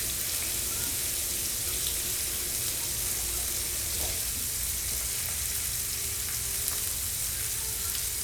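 A kitchen tap runs steadily while hands are washed, giving a constant broad hiss of flowing water that stays close and even throughout.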